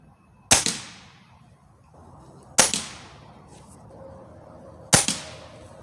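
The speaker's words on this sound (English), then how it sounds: "I'm gonna take first 3 shot with a hollow point." Three sharp shots from a Ruger Impact Max Elite .22 gas piston air rifle firing hollow point pellets at a target 20 yards away, spaced about two seconds apart, each a crisp crack with a brief decaying tail, alone without talk.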